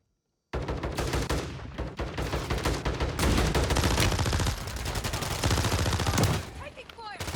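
Rapid, sustained video game gunfire rattles loudly in dense bursts right after a moment of silence, continuing for several seconds with voices talking beneath it.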